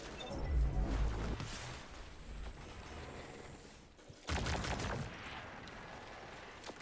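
Auto rifle fire in Destiny 2 during an online match: a dense, steady stream of rapid shots mixed with game effects, a short lull, then another loud sustained burst.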